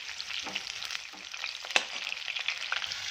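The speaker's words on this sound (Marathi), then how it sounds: "त्यानंतर चार ओल्या मिरच्या छान ह्याला आपण तेलावर छान परतून घेऊया" Green chillies with chopped onion frying in oil in a pan, giving a bright, close crackling sizzle with light spatula scrapes and one sharper tap, no talking.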